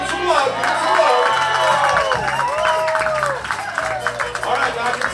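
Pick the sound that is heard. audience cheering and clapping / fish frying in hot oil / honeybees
audience cheering and clapping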